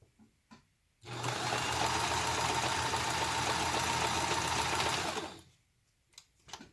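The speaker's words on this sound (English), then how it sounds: "Do a little back stitching." A sewing machine runs steadily for about four seconds, back stitching along a zipper pouch, its close, even mechanical whir starting and stopping abruptly with quiet handling noise on either side.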